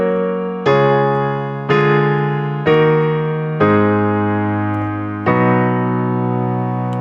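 Piano chords from a song, in its original key, are struck one at a time, each ringing and fading for about a second before the next, moving through a slow progression.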